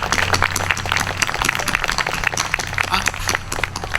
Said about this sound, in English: Now give a big hand, a big round of applause for all these local businesses that help support us